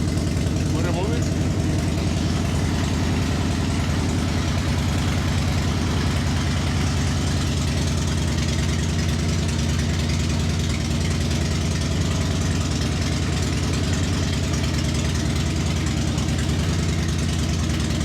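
A motorcycle engine idles steadily after being jump-started with a LIFMOCER GS300 jump starter, a continuous low rumble with a knocking pulse that stays loud and close throughout.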